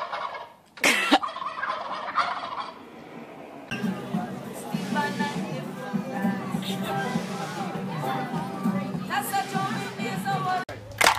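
A turkey gobbles in a rapid, rattling run, repeated several times at close range, while people chatter and call out around it.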